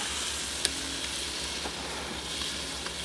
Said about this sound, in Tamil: நல்லா எண்ணெயிலே ஃப்ரை பண்ணிக்கிறணும்